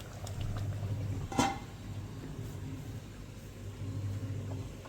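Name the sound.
crab curry boiling in covered pan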